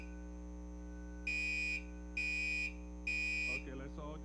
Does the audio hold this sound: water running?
no